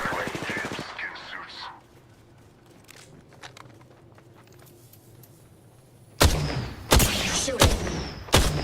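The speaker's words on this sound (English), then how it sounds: "Shooting." Apex Legends gunfire: after a brief voice and a quiet stretch of soft movement, loud rapid bursts of automatic weapon fire erupt near the end, close and punchy in several separate volleys.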